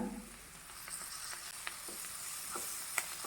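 Chopped tomatoes fry with spices in a pan, giving a steady crackling sizzle, with occasional sharp pops and stirring scrapes, close and moderately quiet, without talk.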